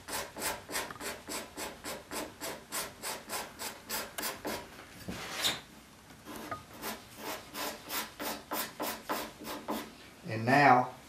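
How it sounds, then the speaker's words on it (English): Hand scraper dragged in heavy, flexed strokes across hard ingrain maple on a chair seat, a dry rhythmic rasping repeated about twice per second, close and loud, with a short pause midway and a brief bump at the end. "Now when you're scraping this, since that ingrain maple is so hard, you're going to concentrate right on top of that ingrain"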